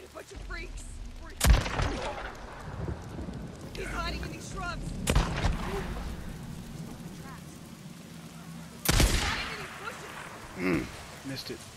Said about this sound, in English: Shooting at freaks